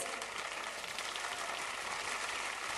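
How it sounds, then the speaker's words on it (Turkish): Audience applause at a Turkish digital-media award ceremony, a continuous wash of many hands clapping, distant and fairly faint, steady throughout. "burada çok büyük bir alkış isteyeceğim"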